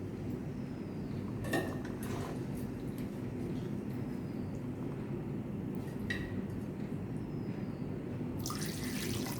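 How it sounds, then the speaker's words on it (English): Water is poured steadily into a pan of butter chicken with masala, a continuous soft splashing hiss with a few faint clinks of utensils. "I'm adding little bit water."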